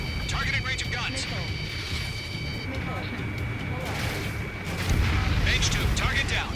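Aircraft guns firing in Ace Combat 7, rapid bursts of gunfire and explosions over a steady jet engine roar, mixed with radio chatter and voices talking throughout.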